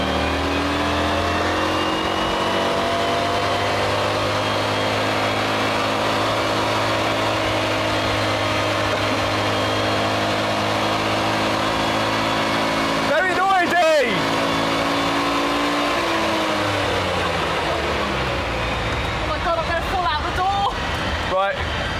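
A Citroen Mehari engine pulls away in first gear, a loud, close, buzzy drone that rises in pitch as it accelerates, then revs up again after a brief gear change, with a voice talking over it.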